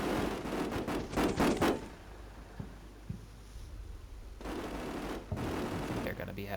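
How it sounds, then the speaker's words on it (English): Gunfire aimed at a vehicle in the wargame Combat Mission: Shock Force 2: a rapid cluster of loud shots at the start, then scattered fainter reports over a low ambient rumble. "they're already shooting at that vehicle"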